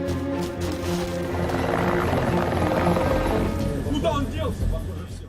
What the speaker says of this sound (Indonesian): Kedua helikopter itu akhirnya pergi karena mengira Ivan sudah tewas